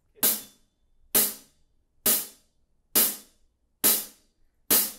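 Six crisp strikes on the edge of a 14-inch Zildjian K Sweet hi-hat, each a sharp attack with a short decaying sizzle, evenly spaced about a second apart, close-miked and unaccompanied.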